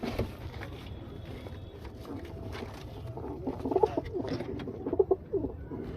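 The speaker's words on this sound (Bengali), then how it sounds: "দেখো, আমার এই কবুতরটা এখন বহুত রাগী হয়ে গেছে।" Madrasi pigeons coo in low, soft murmurs close by, with chicks present; faint rustling and pattering run steadily beneath, and a few brighter calls poke out near the end.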